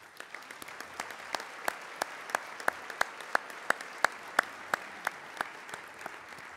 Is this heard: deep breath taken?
no